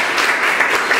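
Audience applause for a Gestalt psychotherapist at a live talk event, steady dense clapping from a crowd filling the whole short moment with no voices over it.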